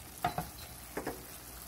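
Beef chili meat sizzles quietly in a pan, with a few soft stirring scrapes in two quick pairs over a faint continuous frying hiss.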